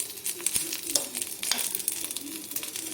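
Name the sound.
curry leaves, chana dal and dried chilies frying in oil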